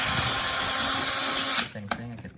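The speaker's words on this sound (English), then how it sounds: "I'm gonna grab my screw bit again to pre-drill my holes." Power drill pre-drilling holes through sheetrock with a screw bit, whining loud and steady for about a second and a half before cutting off, leaving a few short clicks and bumps.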